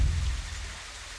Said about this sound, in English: Oh, the rain. Won't let up today.